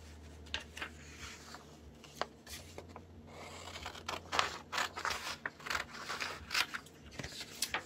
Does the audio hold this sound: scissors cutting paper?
yes